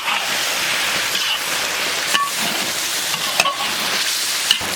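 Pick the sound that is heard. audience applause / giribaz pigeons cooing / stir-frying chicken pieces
stir-frying chicken pieces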